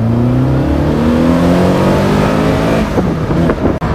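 A Caterham Seven 360R with a 2-litre Ford Duratec engine of 180 bhp accelerates hard, its loud, close engine note climbing steadily in pitch before easing off near the end, with no talking.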